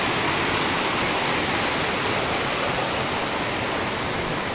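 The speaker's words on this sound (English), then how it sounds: "we're following the stream or the creek or the river, whatever this is, that way" Beauty Creek flows through the Rocky Mountains in Alberta, a loud, continuous, broadband rush of tumbling water heard close and alone, with no voices.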